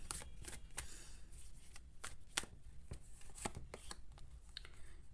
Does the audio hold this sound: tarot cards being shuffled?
yes